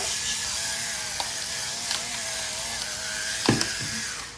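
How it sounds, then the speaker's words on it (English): A small electric pepper grinder grinds black pepper with a faint, steady whirring and ratcheting buzz, with a couple of brief clicks near the end, no talk. "I love this little electric grinder"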